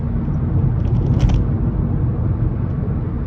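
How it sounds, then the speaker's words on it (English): Steady low rumble of tire and road noise inside a moving Honda City i-VTEC petrol sedan on 55-profile tires, a constant droning hum in the cabin with a brief faint higher rattle partway through. "bit of a tire noise and outside noise also come into the cabin"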